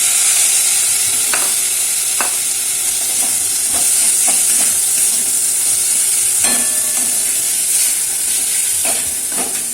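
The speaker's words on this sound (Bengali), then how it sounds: "ধনে জিরে গুঁড়ো, টমেটোটা দিয়ে দিচ্ছি" Tomato and ground coriander-cumin frying in a masala for Bengali Tangra fish curry, a loud, steady sizzle with repeated scraping stirs of the spoon against the pan.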